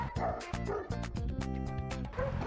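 A roughly two-year-old Staffordshire-type mixed-breed dog barks repeatedly in quick, yappy bursts, some whining in between, close and fairly loud.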